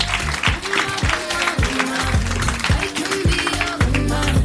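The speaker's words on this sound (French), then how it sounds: "On l'applaudit." A live audience at a French talk show recording applauds as a guest comes on stage, a steady broad clapping wash with music-like tones underneath throughout.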